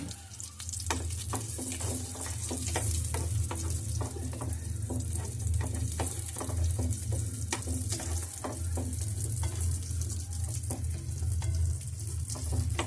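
Raisins fry in ghee in a pan for rava kesari, giving a steady close sizzle with a low hum beneath and occasional light clicks of stirring, no voices.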